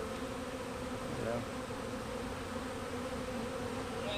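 A dense, steady buzzing of a honeybee swarm, loud and close, continuing without pause throughout.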